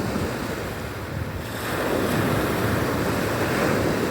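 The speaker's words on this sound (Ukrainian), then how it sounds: "Ми слухаємо море." Continuous roar of surf and breaking sea waves with wind buffeting the microphone, swelling slightly louder midway.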